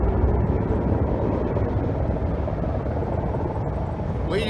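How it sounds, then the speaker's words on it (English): An AH-64 Apache military helicopter passes overhead, and its steady, broadband rotor and engine roar stays loud and continuous throughout the recording with no talking. "We just had a flyover by an AH-64 Apache."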